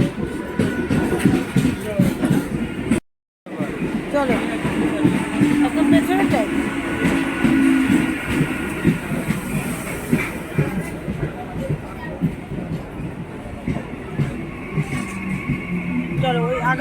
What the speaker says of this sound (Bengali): শিয়ালদার ট্রেন চলে এসছো